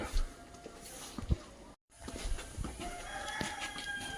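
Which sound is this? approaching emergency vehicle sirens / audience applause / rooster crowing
rooster crowing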